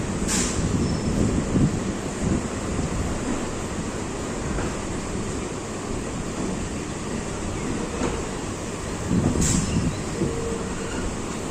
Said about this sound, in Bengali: আমাদের ট্রেন ছাড়লো হচ্ছে 6:54